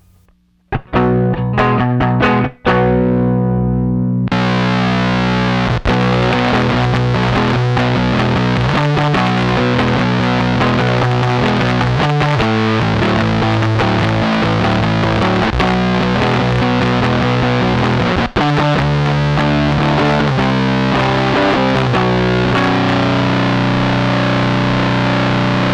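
AC Noises Urla dual resonant fuzz pedal on its fuzz side, run with an expression pedal, giving loud, thick distorted guitar tones: a few sharp opening stabs, then sustained chords and riffs that continue throughout with no talking.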